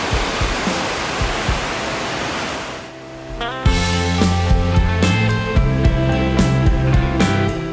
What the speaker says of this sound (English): The waterfall is spectacular.